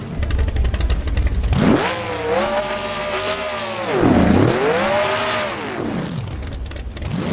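A Chevelle V8 muscle car engine in BeamNG revs hard several times, its pitch climbing and falling in big sweeps, loud and close with a deep rumbling exhaust.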